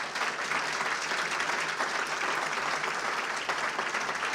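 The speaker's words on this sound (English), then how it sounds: "Give them a big round of applause." Audience at a regional address applauding, with steady, dense clapping from a large crowd throughout, even in level and slightly distant.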